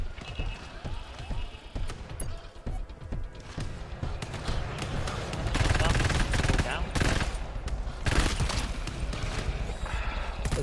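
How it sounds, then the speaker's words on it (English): Automated turret in the co-op shooter GTFO firing from the floor below, rapid repeated bursts of shots rattling on and off across the whole stretch, fairly loud and mixed with other game noise. "Turret is shooting downstairs."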